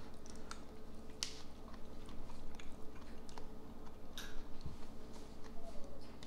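Close, quiet chewing of microwaved Nongshim kimchi fried rice, with soft crunchy bites and moist squishing in an irregular rhythm.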